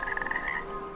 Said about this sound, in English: Frog!